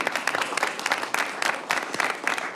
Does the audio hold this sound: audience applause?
yes